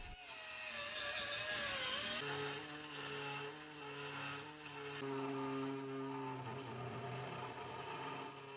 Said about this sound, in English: saw blade allows me to get deep inside of that A-pillar structure to make the cuts all the way through.